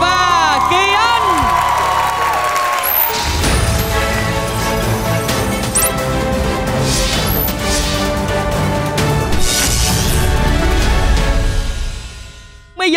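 A studio audience at a Vietnamese televised singing show cheers and applauds loudly and continuously, with whoops and shouts over band music, swelling for several seconds before cutting off abruptly at the end.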